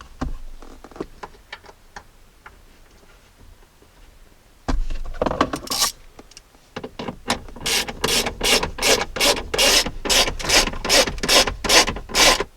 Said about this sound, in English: Now we can take our two 10mm bolts and then thread them in.